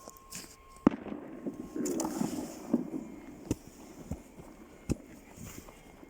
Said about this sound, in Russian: Опять где-то стреляют. Все еще празднуют Рождество.